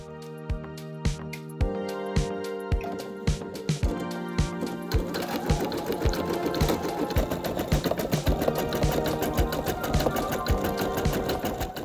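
A home embroidery machine stitches steadily, its needle tapping in a fast regular rhythm with a humming motor underneath, close and continuous throughout.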